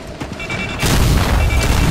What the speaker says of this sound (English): I threw a smoke.